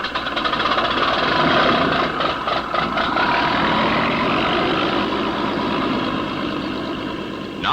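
The Miss Supertest hydroplane racing boat roars steadily and loudly on a test run before the first race of the 1960 Harmsworth, its engine a continuous, slightly wavering drone.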